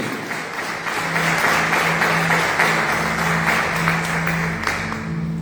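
Church congregation applauding together, a dense steady wash of clapping hands held at an even level for several seconds, close and full with no talk over it.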